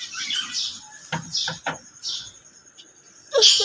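Small birds chirp and squawk in bright, quick bursts, with a cluster of short calls in the middle and a louder call at the end. Faint voices murmur in the background.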